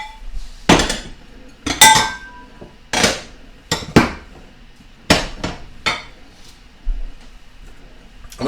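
Metal baking pans are handled and set down in a kitchen, giving about a dozen sharp clanks and clinks at irregular intervals, close and loud with quiet gaps between.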